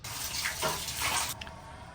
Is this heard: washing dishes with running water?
yes